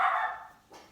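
Pet dogs barking indoors at home, a short close burst of barks that fades quickly.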